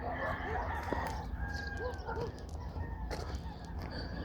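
A whole flock of chickens clucks and crows nearby outdoors on a hike, overlapping calls and rooster crowing over a low rumbling background, moderately loud and busy throughout.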